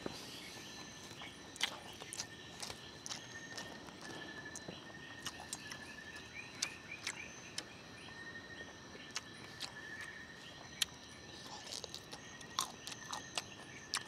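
Soft crunchy chewing clicks of sweet fruit eaten with its skin come in irregular bursts, close to the ear, over a steady outdoor bed of insect chirps at a campsite in Bangkong Kahoy Valley, Dolores, Quezon Province.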